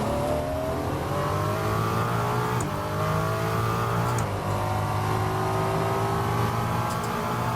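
Ferrari 296 GT3 race car engine in the Assetto Corsa racing game, a continuous revving drone that climbs steadily in pitch with small choppy cuts between samples, heard alone with no talk.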